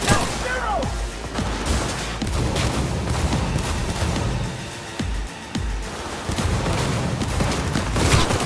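Sniper rifle gunfire in Cyberpunk 2077 rings out as several sharp, loud shots spread through a dense, busy game soundscape, with crashes and other combat noise filling the gaps.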